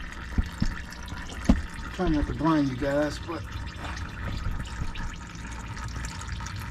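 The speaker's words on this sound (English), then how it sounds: "we are flushing the power steering fluid" Old power steering fluid being flushed out of the lines of a C-10 truck during a power steering box replacement, a soft trickling and pouring of liquid heard under someone talking.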